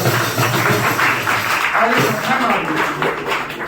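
An outdoor street-play audience claps on cue, a busy burst of hand clapping mixed with voices and chatter throughout, fairly loud and close.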